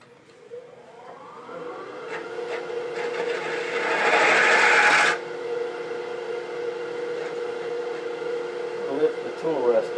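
A conventional bowl scraper works a large cherry burl bowl spinning on a wood lathe: a steady motor hum runs throughout, and a rougher, louder scraping swell builds in the middle before easing back.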